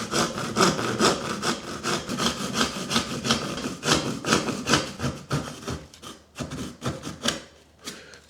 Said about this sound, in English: I'm just going to try cutting it with a handsaw at first,